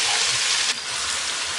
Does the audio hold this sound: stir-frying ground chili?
yes